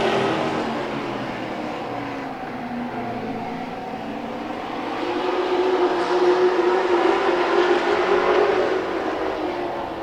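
Race cars lap an oval track in a Hobbyfest heat race, with a sustained engine roar that swells louder partway through as the cars pass close by.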